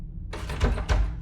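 A locked door in the video game Within is tried, giving two heavy rattling thumps as the handle is pulled and the door shakes against its frame, close and fairly loud, with no voices.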